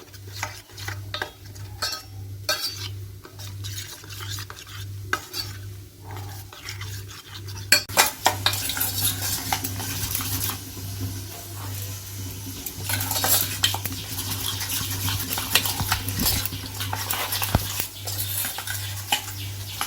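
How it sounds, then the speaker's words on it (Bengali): Fish marinade with plenty of mustard oil and a little spice powder being stirred and mixed for a Bengali rohu bhapa, with clinking of a spoon against a metal bowl and wet mixing throughout, alongside a steady low hum. "একসাথে ভালো করে মিশিয়ে নেব।"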